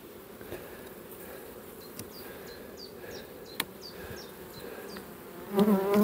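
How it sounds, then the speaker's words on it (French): Honey bees buzz around an open beehive during a spring apiary visit, a continuous dense hum with a few louder passes near the end. "Là, on voit des abeilles sur la partition."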